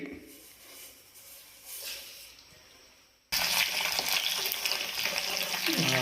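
Garlic, crushed garlic, curry leaves, Byadgi chillies and mustard seeds tempering in hot oil for a ridge gourd sambar, with a loud sudden burst of sizzling that fills the second half after a quieter start.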